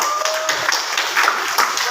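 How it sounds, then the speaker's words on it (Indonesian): A classroom group claps steadily and fairly loudly for a presenting student group, a dense and even patter of hands that lasts throughout. "tepuk tangan buat kelompok 1 dalam presentasikan hasil kerjanya"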